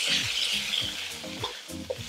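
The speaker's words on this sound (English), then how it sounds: "once this is sizzling like this" Soy sauce and water sizzle and crackle steadily in a hot pan while a utensil scrapes and clatters in a rhythmic stirring pattern.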